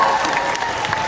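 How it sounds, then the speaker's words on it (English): An anime convention panel crowd applauding, dense steady clapping throughout a brief moment. "I like that y'all clap after everything."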